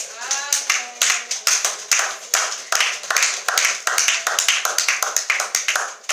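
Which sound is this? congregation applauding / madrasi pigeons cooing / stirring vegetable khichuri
congregation applauding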